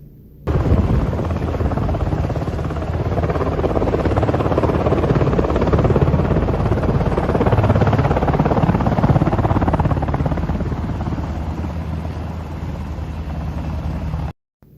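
A helicopter marked with a red cross drones steadily and loudly throughout, its rotor thrum and engine roar holding nearly constant as it passes close overhead, with no talking.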